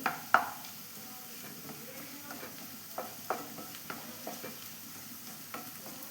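Sautéed onion and tomato stirred in a pan for an egg masala dish: a soft, steady sizzle broken by light spatula taps and scrapes at irregular intervals, fairly quiet and close, with no speech.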